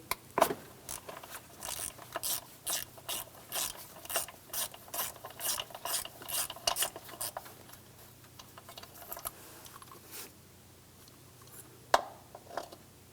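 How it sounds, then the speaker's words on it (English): Ratchet with a 19mm socket removing an air charge temperature sensor from the intake of a 2003-2008 Honda Pilot, a run of rapid clicking strokes in quick bursts, fading to a few isolated clicks, faint and close. "Using a 19mm socket, remove the sensor out of the intake."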